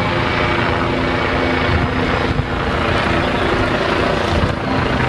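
Green military helicopter in a Metal Slug video game, a loud continuous rotor and engine drone with a slight flutter that stays steady throughout, no talking.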